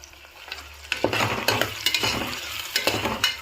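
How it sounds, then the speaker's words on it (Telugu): Coconut paste seasoned with garam masala, turmeric, chili and salt fries in a pan for mutton curry, with a close sizzle broken by repeated scraping stirs that come in short irregular bursts. "ఇవి కొంచెం బ్రౌన్ కలర్లో వేగాలండి"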